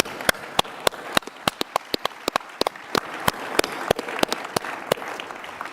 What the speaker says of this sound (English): I'd like to have a big round of applause for our panel.